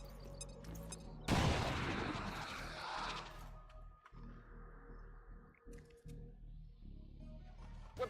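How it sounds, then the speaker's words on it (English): A frag grenade explodes in XCOM 2 Long War of the Chosen: a sudden loud blast with a crackling, rumbling decay lasting nearly two seconds, followed by quieter game ambience. "Frag out! A good grenade in here."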